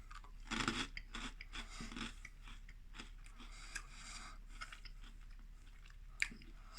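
Crisp crunching of dry cinnamon churro cereal being chewed close to the mic, several quick bites early then quieter, sporadic chewing with no talk.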